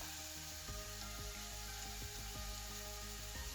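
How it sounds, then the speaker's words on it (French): Soy sauce sizzles and crackles steadily in a frying pan with chicken and vegetables. The hiss is constant, with occasional utensil scrapes and taps over a low hum. "Je vais ajouter un peu de sauce soja."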